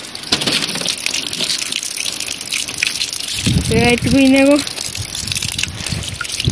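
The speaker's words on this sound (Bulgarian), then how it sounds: "Да, ето и чешмичката." Water gushes steadily from a small village fountain in Svidnya, a constant loud splashing rush that fills the whole stretch while a person speaks over it.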